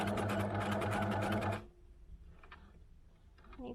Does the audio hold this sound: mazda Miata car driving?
no